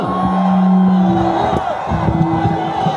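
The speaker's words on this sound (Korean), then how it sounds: "다시 한번 한동훈 위원장께 뜨거운 함성과 박수 부탁드리겠습니다" Crowd at an outdoor campaign rally roars with cheers and shouts, a dense sustained wall of voices, under amplified speech from a loudspeaker.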